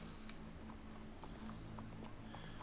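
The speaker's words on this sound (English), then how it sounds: "Go brush that horse" Horse hooves clip-clop at a steady walking pace in Red Dead Redemption 2, soft and somewhat distant over a constant low game ambience with a faint hum.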